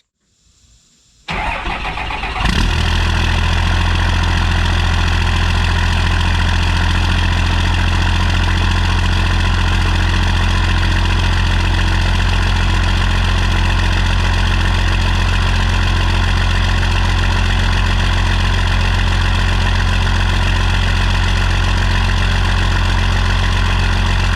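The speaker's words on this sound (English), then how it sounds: "go ahead and do the first fire, see what it sounds like" A 12-valve diesel truck engine with a newly installed Diamond Eye exhaust fires up after a brief clatter and settles into a loud, steady, rumbling idle that continues unchanged throughout.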